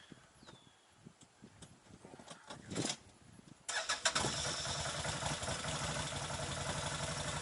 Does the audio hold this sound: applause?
no